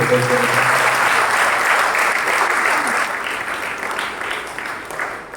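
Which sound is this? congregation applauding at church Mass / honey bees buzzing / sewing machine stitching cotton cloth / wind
congregation applauding at church Mass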